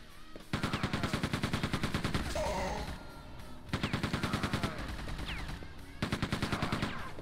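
Rapid-fire gunfire in the video game Quake II: The Reckoning, with three long bursts of fast repeated shots separated by short pauses, loud and close with game effects between volleys.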